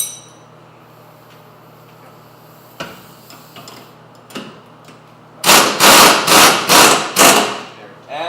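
Differential bushing being pressed into place with a threaded rod and nuts: a quiet stretch with a few scattered metallic taps, then a run of five or six loud, close clanking bursts.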